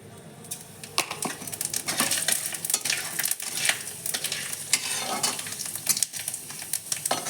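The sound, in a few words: panch phoron spices frying in oil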